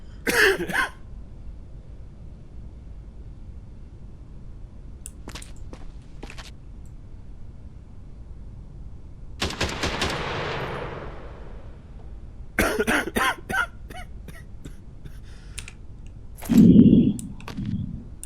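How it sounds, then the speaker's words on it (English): A game character in Quarantine Zone: The Last Check gives a few short coughs and throat-clearing sounds, fairly soft, spaced apart over quiet background hum, with some clicking between them. "He's got a cough."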